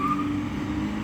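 A car engine gives a steady, close hum with a tonal whine, holding at an even level for about a second rather than clearly climbing in pitch. No one speaks.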